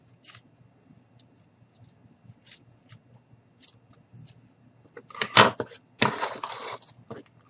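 Scissors snip out a small paper craft piece for a baby gnome. The light, scattered cuts and rustles start out faint, then a few louder, sharper snips and paper handling follow near the end.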